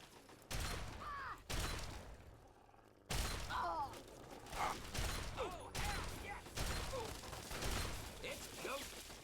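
Shotgun fire in a Fallout 3 library battle, a string of loud sharp blasts in irregular bursts over roughly nine seconds, with mechanical clatter and faint voices between shots.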